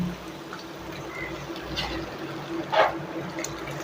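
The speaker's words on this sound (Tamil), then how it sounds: "கொஞ்சம் ஓரளவு தண்ணி ஊற்றிக்கங்க" A faint splash of water pours briefly into a cooking pot of bottle gourd kootu over a low background hum, with a short louder gush toward the end.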